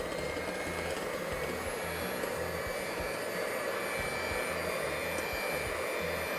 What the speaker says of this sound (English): I'm actually going to use my electric hand mixer, but on very, very low, just on the lowest setting.